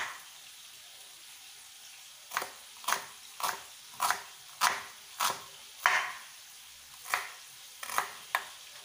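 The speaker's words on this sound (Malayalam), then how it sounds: "സവാള ചെറുതായി കട്ട് ചെയ്തെടുക്കണം." An onion being finely chopped with a knife on a board, about a dozen crisp, evenly spaced knife strikes, close and clear, with no talking.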